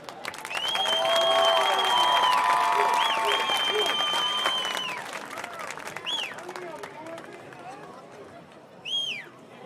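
Stadium crowd at a South Lenoir–Kinston high school football homecoming applauds the 2019 homecoming court, a broad wash of clapping and cheers that peaks early then slowly fades, with whistles and a brief shout near the end.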